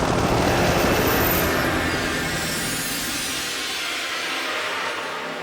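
A police helicopter flies overhead during a chase, its loud, steady rotor and engine roar filling the air and slowly fading as it moves off.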